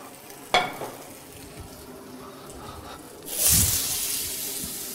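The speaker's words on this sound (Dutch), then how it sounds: "Hier hoor je ook echt sissen." Butter sizzles in a hot pan just before stir-fried asparagus goes in, a sudden close, loud hiss that surges and holds steady after a brief clatter, with no one talking.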